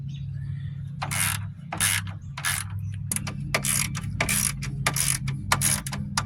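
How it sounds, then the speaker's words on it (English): Rapid bursts of ratchet clicking come in repeated strokes, about ten short runs of close, crisp clatter as bolts are tightened on a 2009 Hyundai Santa Fe under accident repair, over a steady low hum. "So we're going to go ahead and tighten our bolts down."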